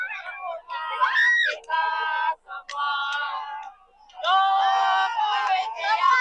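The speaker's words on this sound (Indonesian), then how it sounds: "teriakan histeris menyambut kedatangan Bapak Jokowi" A crowd in Lampung screams hysterically to welcome President Jokowi on his arrival, producing loud, shrill, sustained cries in overlapping waves with brief dips between bursts.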